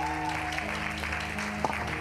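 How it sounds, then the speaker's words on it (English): A church congregation claps steadily in sustained applause, with faint background tones under it. "Somebody clap your hands for them."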